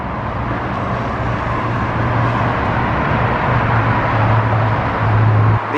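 Steady, loud roadway rumble from interstate highway traffic passing overhead, heard from directly beneath the road at a site with giant presidents' head sculptures, with a continuous low drone that swells slightly near the end and no voices.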